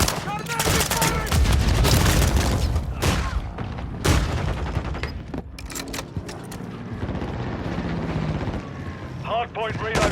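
Enemy gunfire in a Call of Duty match on an airplane graveyard map: dense, loud bursts of automatic fire and booms crowd the first half, then thin into scattered shots under game effects.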